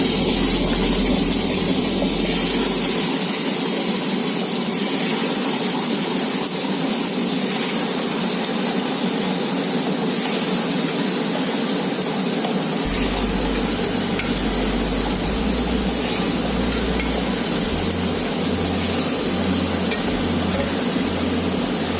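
A Butterfly Rhinoplus wet grinder runs while grinding rice, making a continuous churning, rain-like whir with a low motor drone that shifts partway through.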